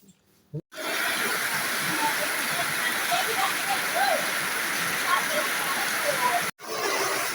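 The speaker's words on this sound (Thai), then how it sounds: "บรรยากาศฝนตกอยู่บ้านสวนค่ะ" Rain falls steadily at a countryside garden house near rice fields, a dense even hiss that starts abruptly after a brief quiet moment and cuts out just before the end.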